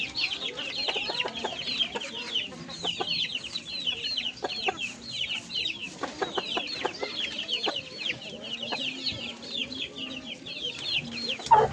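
Backyard chickens cluck busily while pecking at Madre de Agua leaves, with many quick, close clucks and occasional short calls from the flock.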